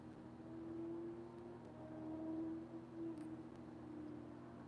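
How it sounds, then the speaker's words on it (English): Distant engines drone and rise in pitch as motorcycles roar by somewhere down the street, faint and steady against the background. "Now I hear the roaring of the motorcycles down the street."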